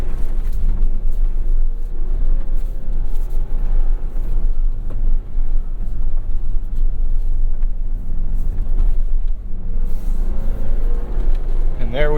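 A 2023 Ford Bronco Heritage with a manual gearbox is driven around a track lap, its engine giving a steady loud rumble heard from inside the cabin, with road and wind noise throughout.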